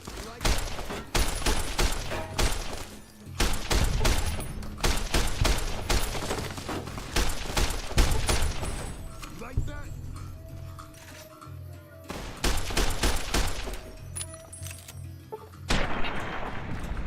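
Repeated gunfire from a weapon in Fallout: New Vegas, loud dense volleys of shots that come in bursts with short lulls between them, with a speaking voice now and then under the shooting.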